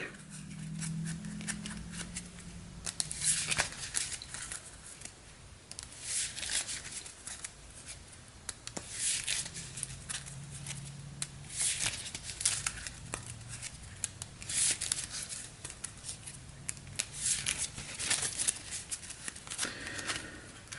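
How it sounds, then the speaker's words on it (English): A tarot card deck being shuffled, soft riffling and patting bursts repeating through a quiet room, faint and close, without speech. "Tarot deck is right here in shot, so let's go ahead and give it a shuffle"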